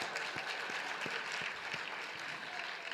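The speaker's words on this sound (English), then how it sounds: "can we give one more round of applause for all of our awardees?" A seated audience at a medical school winter class day ceremony applauds the awardees, a steady, dense wash of clapping filling the room without pause.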